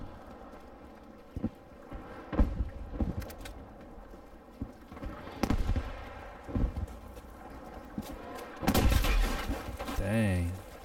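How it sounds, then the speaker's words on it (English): Artillery fire in Battlefield V during the Allied push through France: scattered sharp blasts and thuds of varying distance over a low battlefield rumble, a heavier burst near the end with a voice briefly over it. "Is that artillery coming over?"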